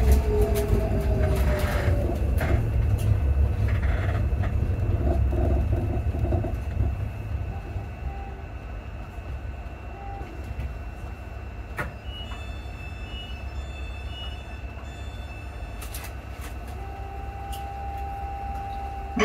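Passenger train rumbling into Haymarket station, a loud low rolling drone that eases as it slows, with faint tonal whines and a steady hum continuing near the platform.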